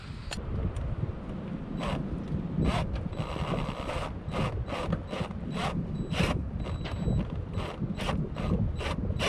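Nut being tightened onto an emergency brake cable on a GMC Sierra 2500 HD, a steady run of sharp ratchet clicks close to the microphone over a constant hiss of background noise.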